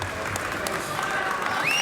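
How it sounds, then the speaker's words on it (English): Crowd at a live fight event cheering and applauding, a steady dense wash of claps and voices that swells slightly toward the end, with a whistle rising near the close. "The crowd, we got the crowd going as well."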